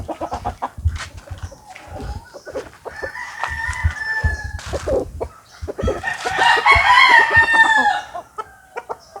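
Game-farm chickens cluck and a rooster crows nearby in a small coop, with scattered clucks building to a louder burst of crowing and calls.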